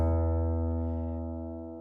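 A single guitar string is plucked once and left to ring, its clear pitched tone sustaining close and alone while fading slowly.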